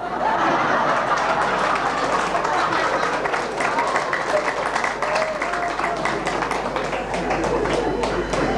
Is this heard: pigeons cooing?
no